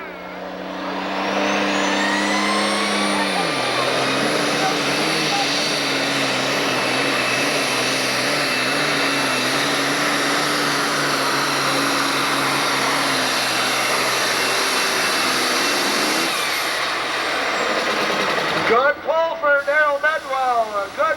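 A 9,500-pound class pulling tractor at a 1996 Freeport, Illinois tractor pull builds boost with a loud, sustained roaring whine that drops in pitch, holds steady, then breaks into rough choppy bursts near the end.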